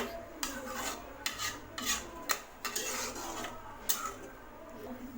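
Tamarind water being stirred into mutton dalcha in a pan, giving repeated scraping, rasping strokes of a spoon against the pan at an uneven rhythm, moderately close and fairly quiet, with no talking.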